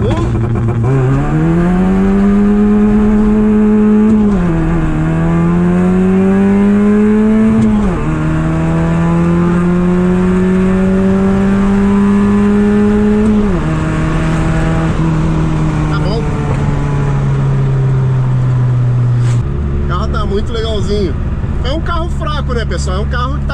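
A Ford Zetec-engined car of about 135 hp launches hard and accelerates, its engine note climbing steadily and dipping briefly at several flat-shift gear changes. The loud, close engine runs throughout, then settles to a lower rumble near the end.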